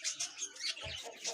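Small birds at a little bird farm in Pudukkottai chirp and tweet in quick repeated bursts, close and fairly loud, with a brief low coo.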